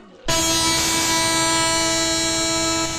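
The horn of a passenger train in a film scene bursts in abruptly and holds as a loud, sustained, multi-tone blast for several seconds.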